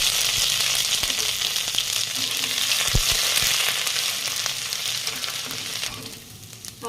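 Steady sizzling of ginger paste frying in hot oil, with a few soft stirring knocks, continuous and close throughout.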